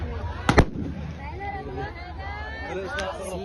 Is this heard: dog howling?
no